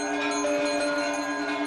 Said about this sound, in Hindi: राम मंदिर परिसर शंख और घंटियों से गूंज उठा।